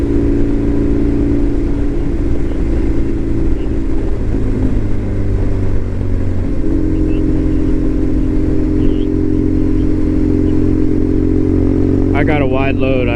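Motorcycles riding east along Highway 12 in Washington, a steady loud engine drone with wind rush throughout, close and continuous, with a brief tonal sweep near the end.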